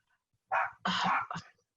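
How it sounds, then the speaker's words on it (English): Dogs in a home bark in a quick cluster of three short, sharp woofs, fairly faint and heard alone against a quiet background. "my dogs are very distracting. Do you hear them?"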